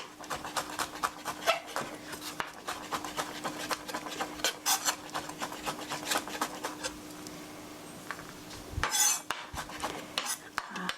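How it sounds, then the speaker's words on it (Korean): Small garlic cloves pressed and minced with a knife on a board, a rapid series of close, sharp chopping taps and scraping metal sounds continuing throughout, with a short louder burst near the end. "이렇게 꼭 눌러서 잘게 다져 주시고요"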